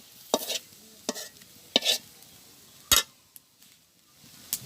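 Onion is added to greens frying in oil in a village kitchen pan. A spatula scrapes and stirs in several separate bursts, each with a short sizzle, over a quiet background.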